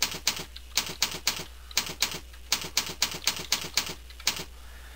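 Fingers typing a description on a computer keyboard, crisp close key clicks in quick irregular clusters with short pauses between bursts, over a faint steady hum.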